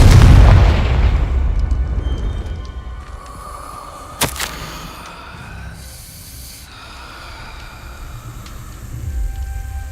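A Confringo blasting spell goes off in Hogwarts Legacy, a loud opening burst and rumble followed by a sharp crack near the middle, then lingering magical shimmer and low ambient rumble.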